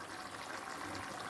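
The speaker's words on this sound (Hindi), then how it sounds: "ये भी पानी और ये चने सारा मैं इसमें डाल देती हूँ।" Boiled chickpeas and their cooking water poured into a pot make a soft, steady gushing splash, faint and close, with no talk over it.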